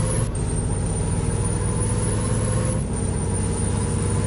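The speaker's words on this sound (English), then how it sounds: "I want to hear my Jake brake on this truck." A truck's Jake brake in Farming Simulator 19 drones as a steady, loud, low engine rumble that holds constant throughout, with no voices.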